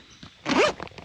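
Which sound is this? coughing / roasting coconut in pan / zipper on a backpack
zipper on a backpack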